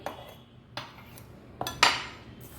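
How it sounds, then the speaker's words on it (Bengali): A spoon clinks and scrapes against a small glass jar as salt is pressed down into cherry tomatoes, with four or five distinct close knocks spread unevenly and no voices. "একটা হাতা বা একটা চামচ দিয়ে একটু চেপে দেবে যাতে ভেতরে ঢুকে যায়"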